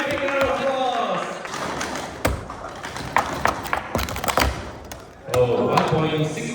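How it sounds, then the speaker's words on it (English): Crowd applause at a cup stacking competition bursts out with scattered claps and taps, mixing with the clatter of plastic cups on a table, while voices talk over the noise near the start and end. "Big round of applause."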